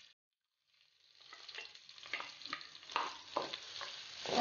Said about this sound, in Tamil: வெங்காயம் பொன்னிறமாக வரும் வரைக்கும் வதக்கணும்.